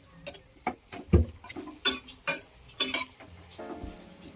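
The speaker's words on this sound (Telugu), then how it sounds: "కట్ చేసి పెట్టుకున్న ఆనియన్స్, పచ్చిమిర్చి, క్యారెట్ కూడా వేసుకోవాలి. అవి మగ్గే వరకు అంటే కలుపుతూ ఉండాలి." Chopped onions, green chillies and carrots frying in a pan for cauliflower upma, stirred with a utensil that taps and scrapes in quick separate strokes over a faint sizzle.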